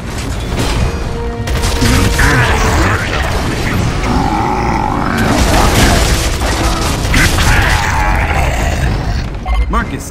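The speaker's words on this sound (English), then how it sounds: "Artillery incoming!" Artillery barrage from an enemy catapult in Gears of War 3, with loud booming impacts and crashing blasts running continuously through dense battle noise, and shouting voices in the mix.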